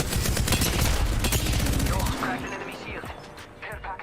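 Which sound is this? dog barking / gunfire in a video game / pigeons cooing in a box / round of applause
gunfire in a video game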